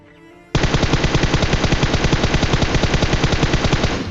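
Rapid automatic gunfire in a shooting video game, a loud continuous burst of evenly spaced shots that starts abruptly after a short quiet moment and runs steadily to the end.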